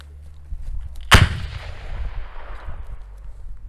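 A single sharp, loud launch blast outdoors from a Fort-600A grenade launcher, followed by a rumbling tail that fades over a couple of seconds amid light background noise.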